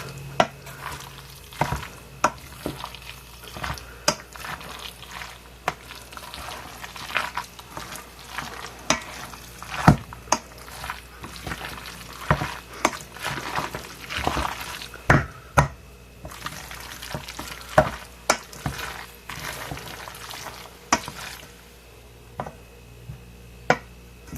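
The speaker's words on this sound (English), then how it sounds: "We're going to mix this up. You want all the noodles covered in the mix." Cooked noodles stirred in a bowl to coat them in a mixture during Christmas baking: steady wet scraping and clacking strokes in an uneven rhythm, close and moderately loud, with no talking.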